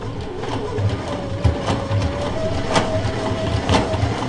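A home sewing machine quilting along a marked line on a quilt, running a steady, fast mechanical whir with a faint rhythmic needle tapping at close range, without speech.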